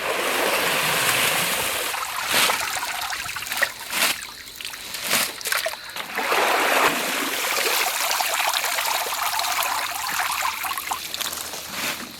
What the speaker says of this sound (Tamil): அலசி கலவு தம்பி, அலசி கலவு